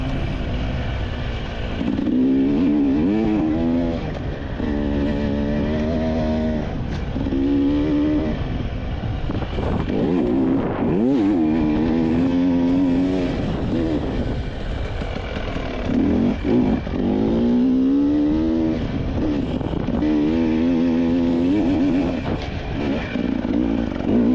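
Enduro motorcycle in a race, engine revving and rising in pitch repeatedly through the whole stretch, loud and close with steady throttle swells and brief drops between them.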